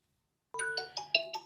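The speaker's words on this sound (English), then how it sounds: "when you have an incoming call" Incoming-call ringtone on a Xiaomi 17 Pro phone starts after a moment of silence, playing a bright, close melodic chime of quick repeated notes.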